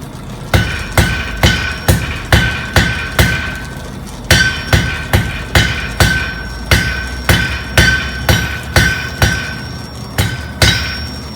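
Steady, loud hammer blows ring out on a heated metal point being forged and drawn out, about twenty evenly spaced metallic strikes with a bright ringing tone, close and alone.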